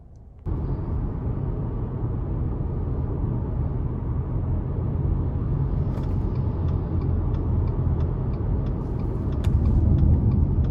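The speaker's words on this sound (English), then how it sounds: "take this Forester out on the road for a quick test drive" A 2021 Subaru Forester Touring rolls along the road in a steady, low cabin rumble of engine and tyres that swells slightly near the end, with faint ticking clicks partway through and no speech.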